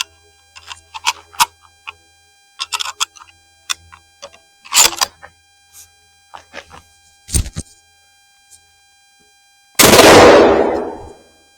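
A single loud, sharp report from a .243 Winchester Remington 700 BDL rifle firing a Hornady 87 grain VMAX factory load, decaying quickly near the end, after several seconds of scattered soft clicks and handling noises.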